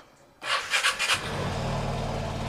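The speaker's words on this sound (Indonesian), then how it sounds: "Nih, coba kita starter." A Vespa Sprint 3V scooter engine starts: a brief whirring starter burst catches at once, then settles into a steady low idle close by.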